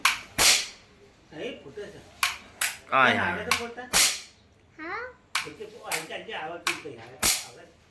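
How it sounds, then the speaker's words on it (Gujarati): Diwali firecrackers burst near a village bus stand with about a dozen sharp, close cracks in an irregular sequence. Children and adults talk between the bangs. "દિવાળી પર શું કરવાનું હોય ફટાકડા ફોડવાના હોય"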